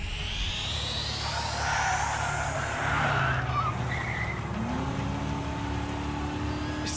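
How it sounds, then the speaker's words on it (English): A turbocharged car in Trails Through Daybreak races loudly, with engine whine and tyre squeal rising and then a shifting drone, no speech. "Is that a turbocharger?"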